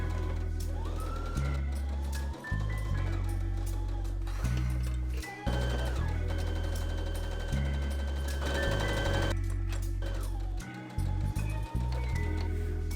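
A sewing machine runs in bursts along the side seams of a summer dress and around a pocket, its motor humming steadily with short pauses at each pivot. It is faint, with a little music or talk behind it.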